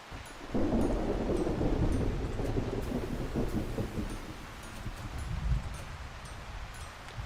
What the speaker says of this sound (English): Sure does rain a lot in this game.